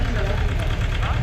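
Tractor engine idling during a tractor auction at the Chandwad agricultural produce market in Nashik district, a dense, steady, loud mechanical rumble with a faint murmur of voices beneath it.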